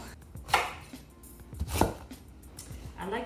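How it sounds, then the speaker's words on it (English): A knife cuts peeled pumpkin into chunks on a board, making a few distinct, close thuds with short pauses between them. "you can use knife and then cut in chunks"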